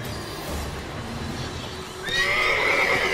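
A horse in The Witcher 3 video game lets out a clear, close whinny in the second half, rising over a low ambient game soundscape with faint hoof movement.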